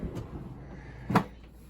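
A bottom drawer in a New York City craft room, used for ink storage, is pulled open with a soft slide and a single muted thump partway through, in an otherwise quiet room.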